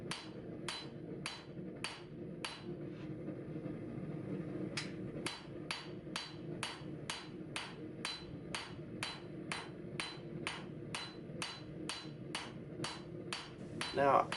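Regular hammer blows ring out one after another while a Cu-Mai knife billet of 13 layers is forged, sharp metallic strikes repeating at a steady rhythm with brief pauses, close and clear.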